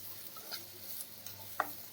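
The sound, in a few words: okra sautéing in oil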